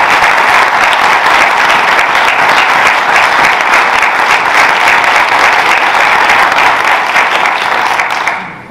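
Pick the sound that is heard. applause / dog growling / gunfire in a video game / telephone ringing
applause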